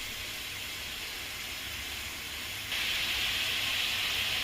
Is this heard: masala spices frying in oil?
yes